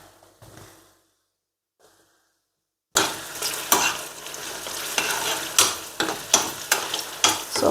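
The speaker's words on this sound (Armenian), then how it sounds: "Սոխառածը կամաց թող լինի" Onions sizzling gently in a pan, a steady close frying hiss with repeated stirring scrapes after a quiet opening.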